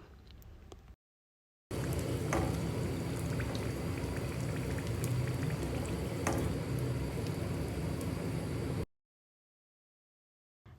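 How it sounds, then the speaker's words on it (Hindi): Chicken cones frying in hot oil, a dense, steady crackling sizzle close by that starts abruptly after a brief quiet moment and stops just as suddenly, with no voices. "एक एक करके मैं इन सारी कोन्स को निकाल लूँगी और बाकी की कोन्स भी सेम इसी तरह से मैं फ्राई होने रख दूँगी"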